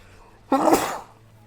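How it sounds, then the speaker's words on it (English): A single sharp human sneeze, close and fairly loud, a quick burst of about half a second rising out of near silence and fading quickly. "Random sneeze."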